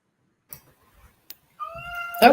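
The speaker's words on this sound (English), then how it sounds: "You can hear my cat in the background." A few soft clicks, then a single clear cat meow up close, short and rising, in an otherwise quiet room.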